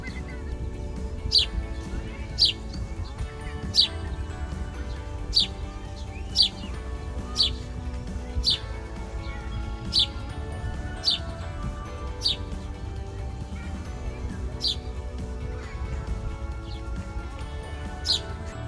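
A small bird chirps in a room during a crafting session: sharp, high, regular tweets repeat about once a second over a low, steady hum, clear and fairly close.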